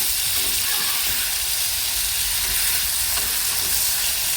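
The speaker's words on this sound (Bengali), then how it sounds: "3 মিনিটের মতন ভালো করে কষিয়ে নিয়েছি" Okra, eggplant and boiled potato stir-fried together in a pan, a continuous close sizzle with steady hiss and faint stirring scrapes, no talk over it.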